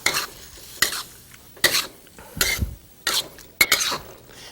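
A creamy dish with black pepper stirred in a pan, five or six distinct scraping strokes at a steady rhythm over a faint sizzle, close and clear, no speech.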